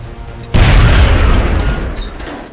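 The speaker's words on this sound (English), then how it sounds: "Now toss your grenade at the enemy in front of you" A grenade blast in XCOM: Enemy Unknown, a sudden loud boom that cuts in sharply and rolls off into a long rumbling decay, standing alone without talk.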